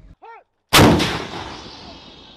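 An artillery gun fires a single round during a jungle warfare exercise of Indonesian and US troops, a sudden loud blast that rolls away into a long fading rumble, preceded by a brief shouted voice.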